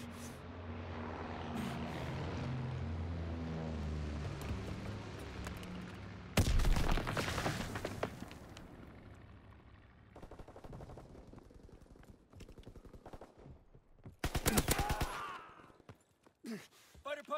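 A fighter aircraft strafes a target with machine-gun fire in the World War II video game Call of Duty WWII: loud, ragged bursts of gunfire rip over a steady rumbling drone, with game voices in the background.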